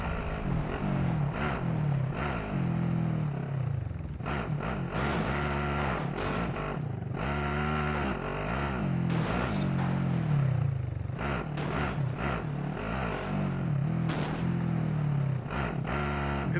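A car engine drones and revs in Call of Duty Warzone, rising and falling in pitch with gear changes over a constant rumble, close and continuous throughout.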